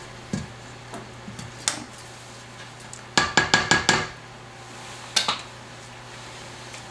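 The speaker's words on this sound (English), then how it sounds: "I'm just running the spatula down the side of the bowl from above where the mixture is" A spatula knocks and scrapes against a mixing bowl of pumpkin chocolate chip cake batter, giving scattered sharp clicks and a quick run of five taps, close up, with no talk.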